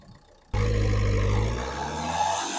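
A Renault Captur Platine diesel, 2017 model, idles with its bonnet open after a sudden start, giving a steady low rumble with a mild whir, loud and close, with no talk.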